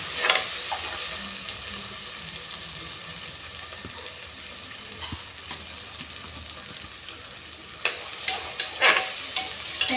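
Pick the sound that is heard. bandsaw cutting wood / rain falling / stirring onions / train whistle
stirring onions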